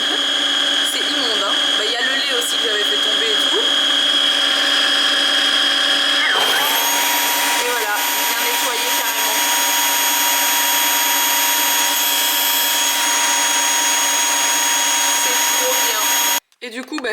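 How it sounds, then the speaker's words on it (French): A wet-dry vacuum cleaner sitting in its base and running its self-cleaning cycle, giving a loud steady motor whine and whoosh that shifts pitch partway through, then cuts off sharply near the end. "Vous appuyez sur ce bouton et il va faire l'auto nettoyage tout seul."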